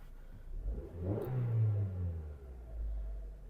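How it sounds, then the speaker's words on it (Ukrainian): A Hyundai Tucson 2.0 engine cranks and catches, then revs up and settles into a steady idle rumble, close by with no one talking. "Двигун запускається чудово."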